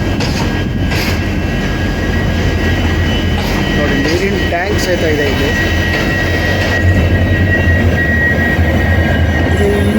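A train rolls along with a continuous loud rumble and mechanical drone heard from inside the carriage, while someone speaks over the noise.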